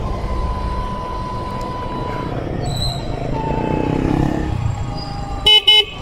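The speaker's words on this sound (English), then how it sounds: "This is how the horn sound." An Energica electric motorcycle's horn sounds in two short, loud honks near the end, after a quiet stretch of soft road and wind noise.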